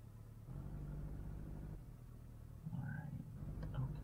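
A modded car engine in the Assetto Corsa racing game idles with a low, steady rumble, then briefly swells louder as if revved, heard up close with no talking.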